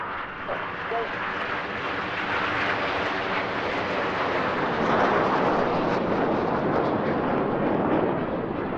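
Airshow jet aircraft rolling through a double barrel roll manoeuvre, a loud continuous broadband roar swelling toward the middle and holding strong, with a commentator talking over it.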